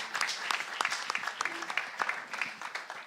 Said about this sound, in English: Please applaud Madame la Ministre.